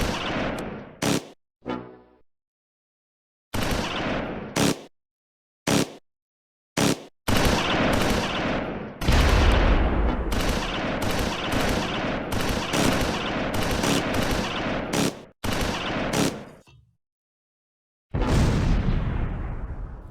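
Gunfire in the WWII strategy game Close Combat 4 at Dasburg during the Battle of the Bulge: loud, dense bursts of rifle and machine-gun fire with a few explosions, firing in sharp volleys and then a sustained stretch of fusillade.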